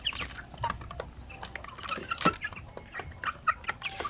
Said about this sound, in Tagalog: napakaganda ng mga manok